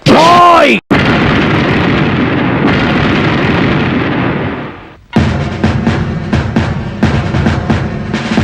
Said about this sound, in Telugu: అణుబాంబ, ఆటం బాంబ, మందు పాత్ర, ఆర్డీఎక్స్ ఇవేవి కావు, సరికొత్త పెట్రోల్ బాంబు